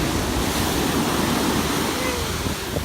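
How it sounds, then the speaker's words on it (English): Big ocean waves roll and break at Huntington Beach, a broad, steady roar of surf and wind noise filling the whole stretch without pause. "Look at these waves."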